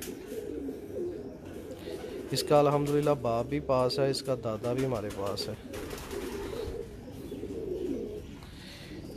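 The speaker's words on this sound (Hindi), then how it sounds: "ये नेशनल चैम्पियन कबूतर है जी" A national champion racing pigeon coos up close, a few loud, rolling burrs in the middle, while someone talks before and after.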